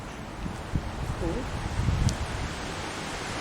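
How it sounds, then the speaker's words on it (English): Strong wind buffets the microphone outdoors near the Liberty Bell Trolley Tunnel in Philadelphia, a dense roaring rush with rumbling gusts and faint voices underneath. "It is windy as shit."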